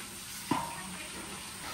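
Biryani cooks in a pot on a stove, giving a steady low sizzle and hiss with one brief stirring knock near the start.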